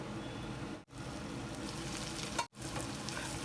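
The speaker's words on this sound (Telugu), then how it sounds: "ఇప్పుడు ఈ ఆనియన్స్ని గోల్డెన్ కలర్ వచ్చే వరకు 1 నిమిషం పాటు మూత పెట్టి వేగనిద్దాము" Onions with a pinch of turmeric fry under a lid in a pan for a cauliflower potato kurma, giving a soft, continuous sizzle at a low level, broken twice by short gaps.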